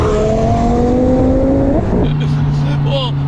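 Twin-turbo V10 engine in a go-kart accelerating hard, a loud, close, rising roar that drops as it shifts gear about two seconds in, then pulls again with a steady drone and rushing wind.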